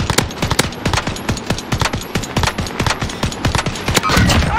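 Loud, rapid machine-gun fire in the video game Warzone, sharp bursts cracking in a fast irregular rhythm, close and dominant, with no talking over it.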